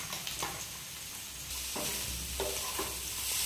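Sliced potato bhaja fries in oil in a pan, giving a soft steady sizzle with faint scraping and stirring knocks from time to time, close and unaccompanied by any voice.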